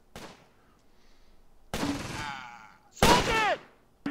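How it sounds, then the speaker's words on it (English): Artillery and gunfire in the video game Close Combat: Gateway to Caen, three loud sharp blasts spaced apart, each trailing into a ringing, whistling decay, with a short pop at the end. "let's put down some small arty fire so that we can actually silence that gun or even suppress it"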